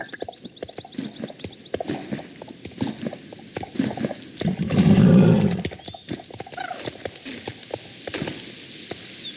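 Hooves clip-clop steadily at a walking pace, then a horse lets out a loud whinny midway before the hoofbeats carry on.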